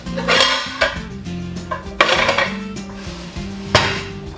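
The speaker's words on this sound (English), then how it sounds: "the smaller pans just fit right into each other, into a corner" Metal pots and pans clank and bang as they are nested and stacked in a kitchen cabinet, several sharp ringing knocks at an uneven pace, close and fairly loud.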